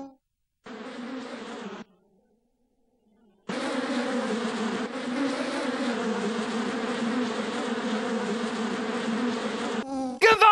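Bees in an animated film buzz in a dense, loud swarm drone, cutting in briefly, dropping out, then returning and holding steady for several seconds before breaking off.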